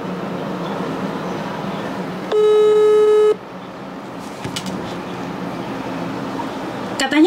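An unanswered phone call rings out as a single steady electronic tone lasting about a second, over background noise with some faint clatter afterward.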